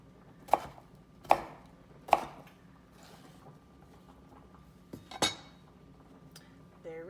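A knife chops cucumber on a cutting board, three sharp evenly spaced thuds followed by a pause and then a couple more cuts, close and distinct against a quiet kitchen background.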